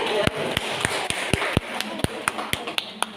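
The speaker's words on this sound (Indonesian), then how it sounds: "Tepuk tangan dulu" Workshop participants clap in a quick, even rhythm, sharp close hand strikes repeating several times a second over a low murmur in the room.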